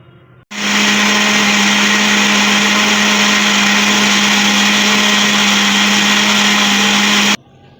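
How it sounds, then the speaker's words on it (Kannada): A mixer grinder runs steadily while grinding coconut chutney, a loud, continuous motor whine with a strong hum that starts abruptly, holds for about seven seconds and cuts off sharply. "ಚಟ್ನಿ ರುಬ್ಕೊಬಿಡೋಣ ಇವಾಗ ಇದಕ್ಕೆ ಕಾಯಿ ಚಟ್ನಿನ ಮಾಡ್ಕೋತೀನಿ"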